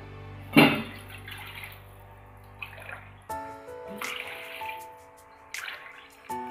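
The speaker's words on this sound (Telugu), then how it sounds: "ఏ గ్లాస్లో అయితే మనం రవ్వ తీసుకున్నామో అదే గ్లాస్ తీసుకొని త్రీ గ్లాసెస్ వాటర్ ఇందులో వేసుకోవాలి" Water poured into a pan of semolina for Diwali laddu, heard as a sharp splash followed by intermittent trickling and dripping, fairly close and alone with no talk.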